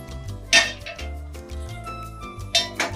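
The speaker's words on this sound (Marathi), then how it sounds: "इथं पॅन ठेवूया" A pan is set down on a kitchen stove, with a couple of sharp metallic clinks and clatters over a low background hum.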